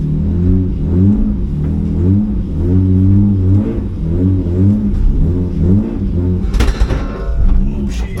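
A BMW E36 engine with a vacuum leak and blue smoke struggles to idle, its loud, close rumble surging and sagging in uneven pulses, with a sharp metallic clatter near the end.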